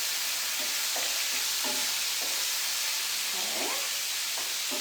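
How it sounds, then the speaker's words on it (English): Chili shrimp and snow peas sizzle hard in a hot pan, a dense continuous hiss with repeated soft scrapes of stirring; a voice briefly speaks over it. "I typically don't stir this much, but I really want to get all those ingredients coating"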